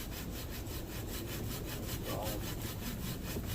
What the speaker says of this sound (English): the saw will literally cut itself. All you have to do is pull back.